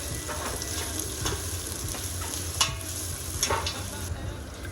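Onions, curry leaves and green chillies sizzle steadily in hot oil inside a pressure cooker while cooking chicken biryani, a continuous close frying hiss with a few louder crackles and stirring scrapes.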